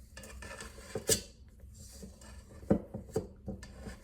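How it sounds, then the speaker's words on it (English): Scooping chilled chocolate chip cookie dough made without butter, with a few sharp scraping clinks of a metal scoop against a bowl amid soft rubbing, close and fairly quiet. "I'm about to scoop these cookies"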